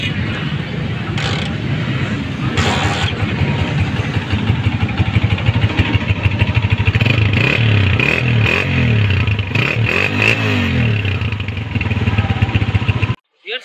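A used motorcycle runs at a Hyderi bike market, its engine loud and close with steady rumbling and clattering, some throttle rises, and faint background talk until it cuts off at the end.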